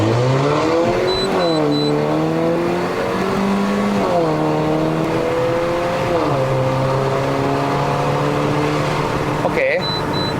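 A W176 Mercedes-Benz A180 on a test drive in Malaysia, heard from inside the car: the engine climbs in pitch toward high revs, drops at each automatic upshift, then climbs again several times, while a person talks over it.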